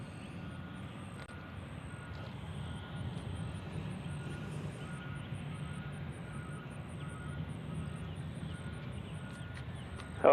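A United airliner, flight 2167, departing Nashville International Airport produces a faint, distant, steady jet rumble that holds evenly throughout.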